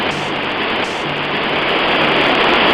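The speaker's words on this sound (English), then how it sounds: "you hear the river flowing louder and louder" A river rushing steadily through mountain forest, a continuous loud broadband roar of flowing water that swells slightly louder toward the end, with no voices.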